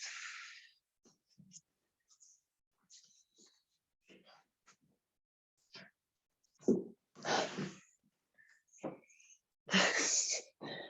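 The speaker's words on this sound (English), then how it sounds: "Big breath." Deep, audible breaths during a somatic mat exercise, with several long, airy inhales and exhales close to the microphone, separated by quiet stretches and faint movement.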